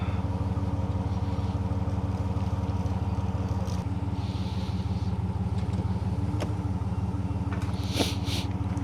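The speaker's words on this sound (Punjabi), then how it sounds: "ਡੀਜ਼ਲ ਇੰਜਨ ਦੇ ਉੱਤੇ ਹੁੰਦੀ ਹੈ ਇਹ ਗੱਡੀ ਤੇ ਬਹੁਤ ਹੀ ਪਾਵਰਫੁਲ ਇੰਜਨ ਹੁੰਦਾ ਇਹਦਾ" A diesel engine in a Grand River RV motorhome runs at a steady idle, a loud continuous low rumble with even throb throughout, plus a few faint clicks and no talk.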